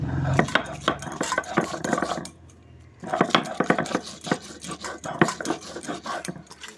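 Green chilli, garlic and salt being ground into a paste, with dense repeated scraping and knocking strokes close by, broken by a short quiet pause before the rhythmic grinding resumes.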